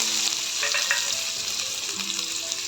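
Masala and onions fry in hot oil for dum biryani, giving a steady, close sizzle with faint stirring scrapes and no talk.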